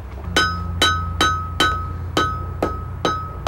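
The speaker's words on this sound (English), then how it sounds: "So I'm hitting it on two sides with a hammer." A blacksmith hammers a round iron rod on an anvil to square it at an old farmstead, with seven evenly spaced ringing metallic strikes, loud and close, no talking.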